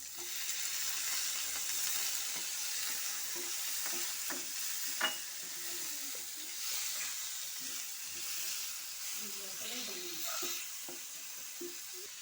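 Sliced onions and green chillies fry in a pan for prawn roast, a steady soft sizzle broken by scraping stirs of a spoon, moderately close and without talk.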